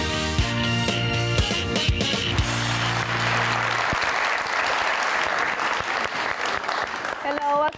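A studio audience on a talk show bursts into sustained applause to welcome a guest, dense steady clapping filling the room for several seconds, with music playing underneath at the start.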